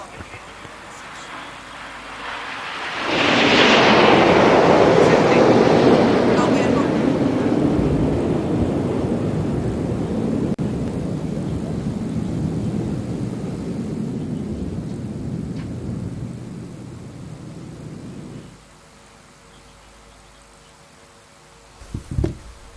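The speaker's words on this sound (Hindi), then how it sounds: "प्रशिक्षण के लिए उपयोग में लाए जाने वाले हॉक लड़ाकू विमानों की" Hawk trainer fighter jets fly past in a loud rising roar that peaks early, then fades slowly into a long rumbling tail, followed by near silence and a brief knock.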